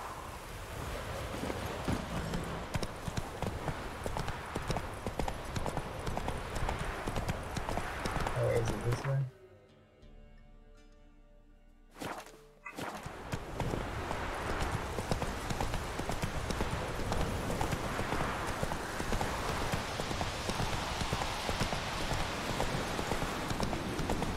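Roach the horse trots in The Witcher 3, hooves clip-clopping in a steady, close rhythm that drops out briefly in the middle before resuming, with a voice talking at times.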